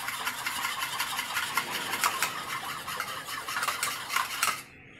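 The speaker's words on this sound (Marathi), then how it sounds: "याला छान बीट करून घ्यायचं आहे." Curd is beaten with salt in a bowl, a quick steady scraping and clinking of a spoon against the bowl that runs close and clear before stopping abruptly.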